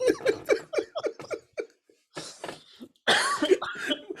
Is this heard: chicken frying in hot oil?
no